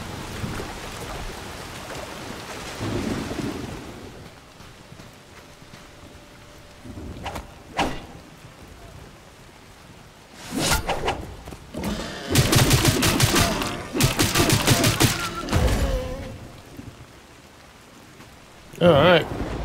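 Rain falls in the survival video game Soulmask, a steady hiss that swells into several loud, dense bursts later on, with quieter patches and sharp crackling hits between them.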